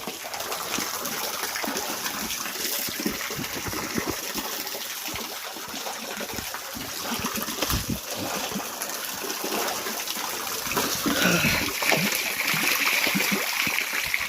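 Steady, broadband rush of splashing water keeps up throughout, like a waterfall pouring close by, with no voices over it, at a hidden waterfall in Barkattha, Hazaribagh.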